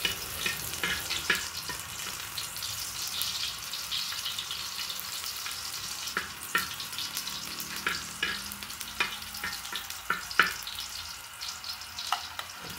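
Steady close sizzling and frying as bamboo shoots (labong) are sautéed in a pan, with repeated sharp clicks and scrapes of stirring throughout.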